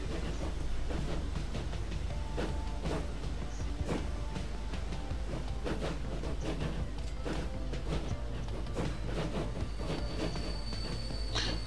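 A locomotive train running in Transport Fever 2 on an Italy map gives a steady, low rolling rumble with repeated clickety-clack wheel beats across the whole stretch.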